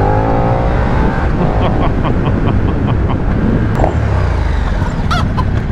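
A motorcycle's engine is pushed hard in a loud, close, sustained roar with a buzzing harmonic drone that holds steady across several seconds.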